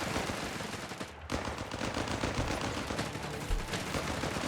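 A .30 cal machine gun in Company of Heroes 3 fires in sustained, dense bursts over a continuous loud wash of battle noise, with only a brief break in the racket.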